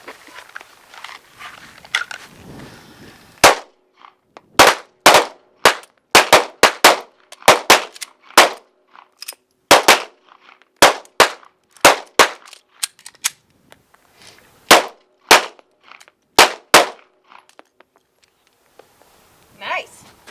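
Sharp pistol gunshots ring out during a defensive pistol drill, roughly two dozen loud reports in quick pairs and bursts from several shooters on a range, irregularly spaced, with brief talk at the start.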